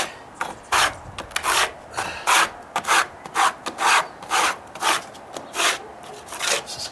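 Filler being spread and smoothed over ridges on wooden deck stairs, a series of rhythmic scraping, rasping strokes about one per half second, close and fairly loud.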